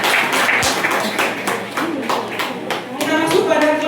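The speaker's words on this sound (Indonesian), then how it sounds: "Kita beri tepuk tangan." Audience clapping at a school report-card ceremony, a loud and close burst of many hands striking in quick repeated claps, with voices mixed in underneath.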